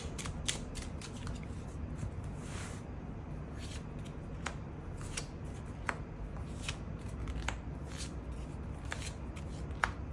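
Tarot cards are shuffled and drawn during a reading, giving soft papery riffles, slides and scattered light taps over a steady low room hum, close and fairly quiet throughout with no talking.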